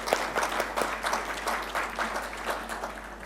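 An audience at a business forum claps steadily in a dense, continuous round of applause that holds at an even loudness for a few seconds, with no voices standing out.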